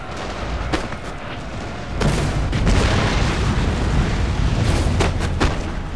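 Artillery cannons fire in a Napoleon Total War battle, with repeated booms rolling over a dense, continuous roar of battlefield noise, loud and close throughout.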